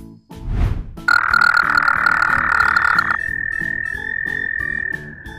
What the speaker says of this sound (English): Giant ditch frog.